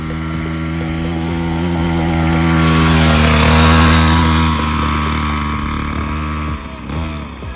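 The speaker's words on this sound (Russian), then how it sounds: "Это настоящий мотоцикл, на секундочку. Только для детей." A children's motorcycle engine runs with a high, buzzing whine that climbs gradually in intensity toward the middle, then eases back down and briefly drops near the end, fairly loud and close.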